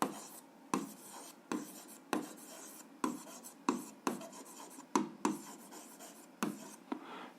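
A pen scratches across paper while someone works through a grade 7 algebra exercise by hand. About a dozen short, rhythmic strokes are heard close up, each a brisk rasp, with no talking.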